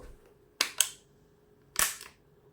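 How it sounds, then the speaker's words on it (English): Air gun cocking action, heard close up as a quick double click followed by a single sharp clack after a pause, all against a quiet background. "Now listen to the cocking action."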